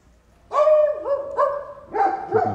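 Several dogs bark outdoors in a winter residential area of Çolaklı near Side, Turkey, giving a few loud, clear barks in quick succession with a short pause between them.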